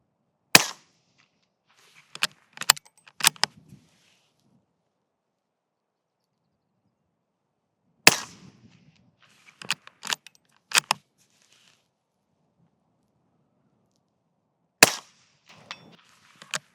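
Rifle shots fired at a target 200 yards away, three sharp cracks spaced several seconds apart, each followed by faint metallic clicks of handling, with no talk.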